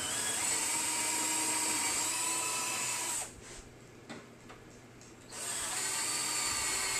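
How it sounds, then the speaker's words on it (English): A power drill whines steadily at high pitch while drilling bolt holes in an arcade cabinet, cutting out briefly for a couple of seconds before spinning up again, fairly close and loud. "I'll just drill four quick holes."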